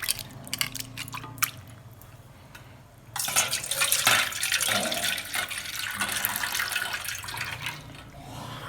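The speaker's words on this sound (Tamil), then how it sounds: "நல்லா தண்ணி ஊற்றி கழுவி வச்சுக்கலாம்." Running water splashes over chopped snake gourd being washed in a kitchen, first sparse drips and trickles, then a louder steady gush with squishing handling sounds.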